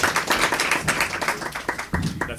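Live comedy podcast audience applauding, a steady burst of many hands clapping that thins slightly toward the end, close and moderately loud with no voices over it.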